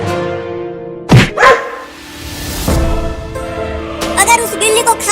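A dog in a Hindi cartoon comedy gives a couple of loud, close barks near the start, followed by a woman's animated speech, the barks standing out over a toned musical background.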